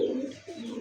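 Pigeons coo at a pigeon market selling local and foreign breeds, a close soft throaty coo that dips briefly and resumes over less than a second, with no talking.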